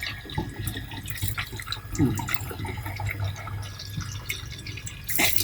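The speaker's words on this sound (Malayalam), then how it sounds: "നല്ല തെളിഞ്ഞ വെള്ളമാണ് ആ പൈപ്പിൽ കൂടെ ചാടിക്കൊണ്ടിരിക്കുന്നത്" Clean water runs from a water filter pipe, making close dripping and splashing sounds over a low, steady hum, with a louder burst of water near the end.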